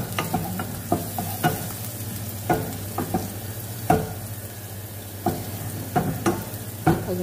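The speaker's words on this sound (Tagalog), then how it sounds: "Ayan, nagpainit na ako ng oil. Then, lagay na natin yung onion." Onion fries in hot oil in a pan, giving a steady sizzle punctuated by regular scraping stirs of a utensil, close and fairly loud, with no voices.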